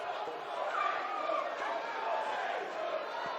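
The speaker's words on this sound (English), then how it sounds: "It's the Rovers fans cheering on their defence that you can hear." Rugby league fans at a stadium roar and shout in a sustained, distant crowd swell, a continuous mass of voices encouraging their team's defence.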